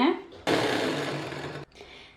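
A kitchen blender whirs loudly for about a second, blending frozen bananas and blueberries into homemade ice cream, then cuts off abruptly; a voice is heard before and after.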